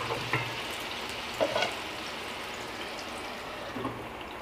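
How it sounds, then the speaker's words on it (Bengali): Masala fish frying in hot oil in a kadai, a steady close sizzle running throughout, with a few soft clinks and stirring taps on top. "তেলটা ভালোভাবে গরম হয়ে গেছে, এবার মাছগুলো আমি দিয়ে দিচ্ছি কড়াইয়ের মধ্যে।"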